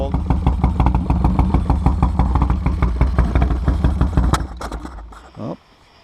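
A 2002 Harley Sportster with a Zipper Super Hammer kit idles cold just after its first start, giving a loud, loping, pulsing rumble. The engine cuts out abruptly near the end, followed by a short clunk and quiet.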